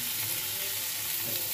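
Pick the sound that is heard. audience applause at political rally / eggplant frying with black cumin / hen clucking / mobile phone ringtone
eggplant frying with black cumin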